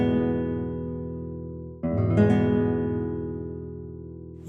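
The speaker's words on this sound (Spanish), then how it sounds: "un acorde mayor tradicional suena así" A traditional major chord rings out on a sustained instrument, played once and decaying, then struck again with a brighter attack that slowly fades, clear and close with no speech.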